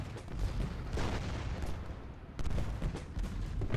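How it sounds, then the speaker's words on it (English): Artillery units on a ridge firing into Union troops in open terrain in Ultimate General: Gettysburg, a steady barrage of overlapping cannon booms and crackling gunfire rolling on continuously, loud and dense throughout. "we've got these artillery units up on this ridge. They're firing into the Union troops kind of in this open terrain"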